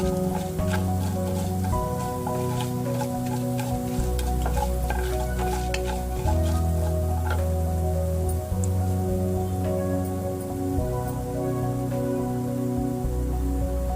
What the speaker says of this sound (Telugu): ½ స్పూన్ ఉద్దిపప్పు, మొత్తం ఇలా వేయించుకున్నాం.